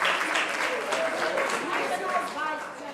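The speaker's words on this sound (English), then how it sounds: "Please, a round of applause for her too." An audience at an association's annual general meeting gives a short, steady round of applause for the Secretary General, with voices mixed into the clapping.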